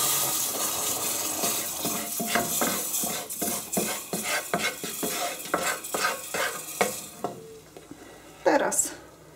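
A browned roux is scraped into a pot of beer with onions and stirred, with a soft sizzle, wet sloshing and a rhythmic series of utensil clacks against the pan.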